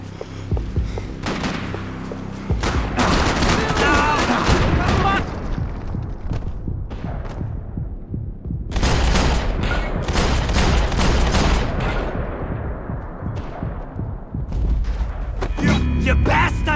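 Dense gunfire in the video game Max Payne 3 sounds as loud, close, rapid bursts of shots and heavy booms, broken by short lulls and then resuming in long volleys.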